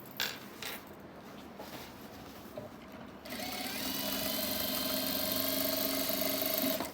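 A sewing machine stitches elastic onto fabric while the elastic is stretched, starting with a few faint clicks before settling into a steady, loud, continuous whirring hum that runs to the end.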